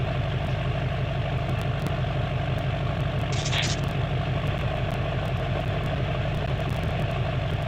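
A truck engine idles in the SnowRunner video game with a steady, loud, low rumble that drones on unchanged, and a brief faint chirp rises once above it.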